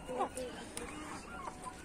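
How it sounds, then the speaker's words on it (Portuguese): Chickens waiting for corn in a farmyard on a hot day, giving several soft clucks and short squawks at close range under a quiet background hum. "As aves já sabem que é aqui que eu pego o milho, galera."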